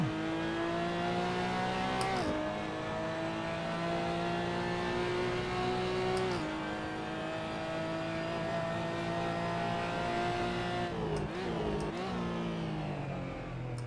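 A Porsche GT4 in the Assetto Corsa racing game held at full throttle at Laguna Seca, a steady loud engine drone climbing in pitch, with brief dips around gear shifts and no talk.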